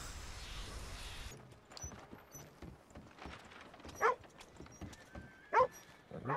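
Horse hooves clip-clop at a walking pace in Red Dead Redemption 2, soft and fairly distant, with occasional sharper hoof strikes and faint background ambience.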